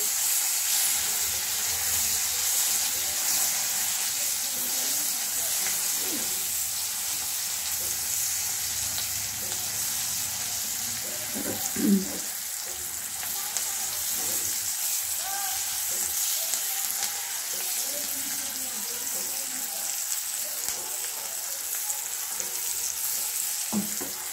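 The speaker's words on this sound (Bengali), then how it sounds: "আর কারি পাতাটা এইভাবে ভেজে নিচ্ছি" Curry leaves frying in a kadai for upma give a steady, close sizzle and hiss that runs throughout, with soft stirring scrapes and a few louder crackles.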